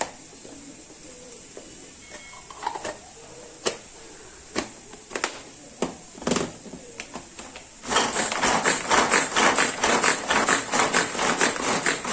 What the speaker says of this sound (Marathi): आता टोमॅटो कापून घेते